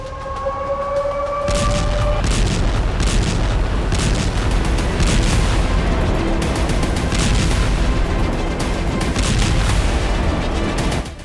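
Heavy bombardment over Gaza and the West Bank produces a dense run of loud booms and crackling blasts, with a wailing siren-like tone at the start.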